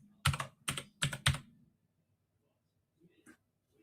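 Quick bursts of typing on a computer keyboard, four short clusters of keystrokes close together in the first second and a half, then quiet with a faint soft tap near the end.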